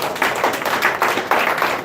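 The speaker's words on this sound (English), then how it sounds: "Clap it up, parents." A stand-up comedy audience claps in steady rhythmic bursts, moderately loud and close, filling the room for a short stretch.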